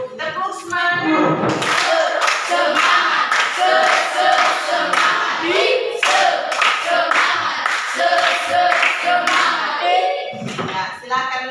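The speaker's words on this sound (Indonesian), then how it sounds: "Tepuk semangat." Students in a Catholic religious education class doing a rhythmic spirit clap, loud patterned group clapping with chanted voices riding along in time.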